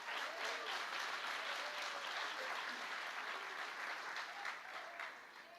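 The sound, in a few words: church congregation applauding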